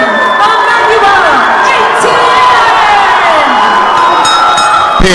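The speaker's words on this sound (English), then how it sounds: "Big crowd here for Emmanuel Etienne." Big crowd at a boxing event roaring and cheering for a fighter's introduction ahead of his pro debut, a loud sustained wall of voices with whoops and shouts throughout.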